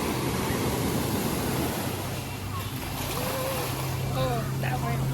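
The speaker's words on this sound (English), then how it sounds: "Water's perfect coming in. Nice big waves coming towards us." Big ocean waves roll in at Virginia Beach, a steady broadband wash of surf close by with a low hum underneath, while voices talk over the breaking water.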